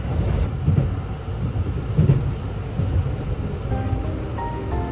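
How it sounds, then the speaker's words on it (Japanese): A JR West limited express car running as the Home Liner Ogaki pulls into Hozumi station, heard from inside as a steady low rumble of wheels and rails, with faint chime-like tones rising near the end as the train slows. "穂積駅に到着しました。"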